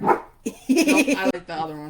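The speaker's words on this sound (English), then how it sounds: "that's my dog. He likes to try to eat people." A pet dog barks in short, sharp bursts indoors, the barks mixed in and overlapping with people chatting close by.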